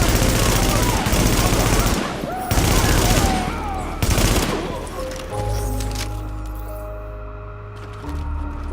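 Loud, dense automatic gunfire in The Division erupts in bursts for several seconds, broken by short pauses, then gives way to sustained tonal game sounds underneath.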